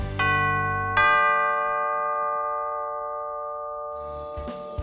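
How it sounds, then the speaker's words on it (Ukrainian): Two loud strikes of tower clock bells in Mukachevo, Ukraine ring out about a second apart, their tones sustaining and slowly fading, with faint background noise returning at the end. "А дзвони кожні 15 хвилин нагадують нам про незворотній плин часу"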